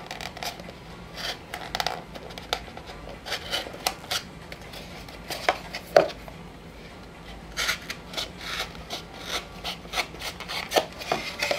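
Paper for a Graphic 45 haunted panorama craft piece is cut in a series of soft rasping, scraping strokes, close and fairly quiet, with no talking.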